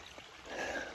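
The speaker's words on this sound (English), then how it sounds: "Hopefully y'all can hear me over the creek water running beside the camera." A creek runs right beside the camera, its water rushing and trickling steadily in a continuous close hiss at a wooded turkey-hunting spot on public land in Georgia.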